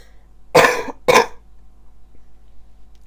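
Two loud, close coughs in quick succession, each a short harsh burst, followed by near silence with only faint low background hum.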